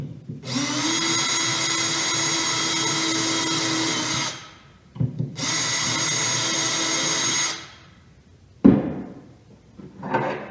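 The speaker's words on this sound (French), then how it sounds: "je vais juste faire un petit trou pour pouvoir guider ma vis" A power drill bores a small pilot hole into a wooden cabinet carcass, with two loud sustained whirring bursts that stop abruptly, followed by a sharp knock and some handling clatter.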